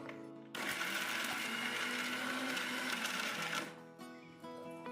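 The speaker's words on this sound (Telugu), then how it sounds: "ఆ పచ్చి కొబ్బరి అంతా ఒక మిక్సీ జార్లో వేసుకొని చిక్కటి పాలు తీసుకోవాలండి" Mixer grinder blending raw coconut pieces with water in a jar, a loud steady whirring roar that starts abruptly, runs for about three seconds, then stops, leaving a faint hum.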